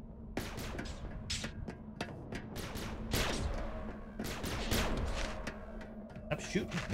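Scattered gunshots and thuds in the game Bedlam, irregular sharp cracks spread across the stretch, moderately loud, mixed with game noise and a voice talking.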